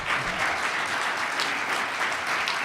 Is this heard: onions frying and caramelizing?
no